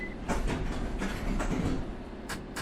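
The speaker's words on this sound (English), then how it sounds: "This train is ready to depart." A London Underground train in London Underground Simulator pulls away with a low, steady rumble and faint rail clatter, a few soft clunks rising over the hum.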